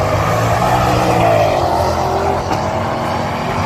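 Drag racing cars roar loudly and continuously at I 30 Dragway, a dense engine rumble with tire noise and no talk.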